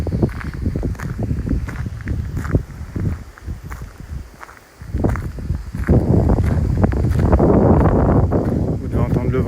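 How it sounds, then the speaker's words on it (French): Gusty wind buffets the microphone during an outdoor walk, a steady low roar that swells louder toward the end, with footsteps and rustling mixed in. "Vous devez entendre le vent là."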